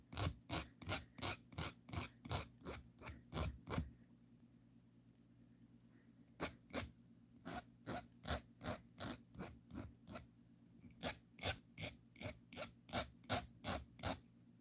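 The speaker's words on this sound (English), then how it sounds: "you probably want to file a little longer than I'm filing." Hand file rasping across a copper blank to smooth its edges, a close series of quick, rhythmic strokes in three bursts separated by short pauses, with no talking.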